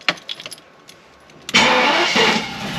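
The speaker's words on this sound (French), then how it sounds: "il faut démarrer, tourner au ralenti" A 300 hp car sits quiet for a moment with faint clicks and jingling, then the engine cranks and catches with a loud burst before settling into a steady, close idle.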